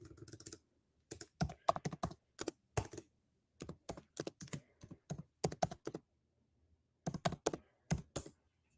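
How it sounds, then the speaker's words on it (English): Keystrokes on a laptop keyboard, fired off in quick bursts of crisp clicks with short pauses between groups, close and fairly quiet with no voices. "Hold on, maybe I can just type that in."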